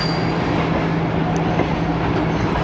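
Shalimar Express passenger train running on rails, a steady loud rumble of wheels and carriage noise with faint rhythmic clatter throughout, no talking.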